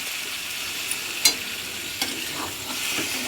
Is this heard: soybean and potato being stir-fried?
yes